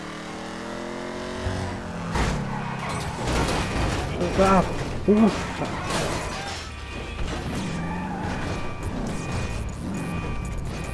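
Car wreck in GTA V roleplay at high speed, a continuous rough engine and mechanical rumble with a few impact thumps, while someone talks over it.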